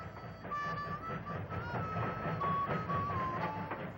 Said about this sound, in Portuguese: O trem está vindo, Jenny.